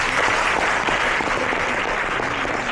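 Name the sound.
audience applause at convention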